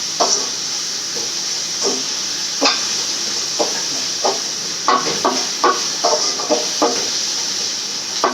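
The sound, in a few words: fenugreek leaves stir-frying in groundnut oil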